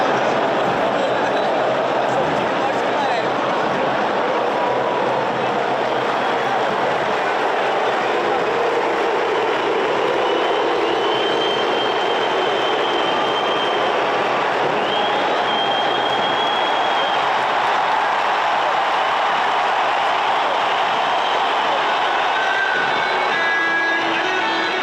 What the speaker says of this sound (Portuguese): Vaias para a saída do Pedro e aplausos para o Gabigol.